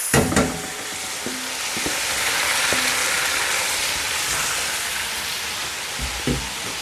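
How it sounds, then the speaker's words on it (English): Mixed vegetables frying in oil and melted butter for fried rice, a steady bright sizzle throughout with a few clanks of a utensil against the pan near the start and end. "Now let's fry the vegetables for the fried rice."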